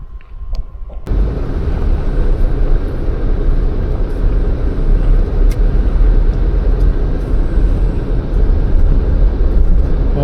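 A car crosses a one-lane wooden plank bridge with its windows down, giving a loud, steady rumble of tires and wind buffeting that runs continuously after a brief quieter start.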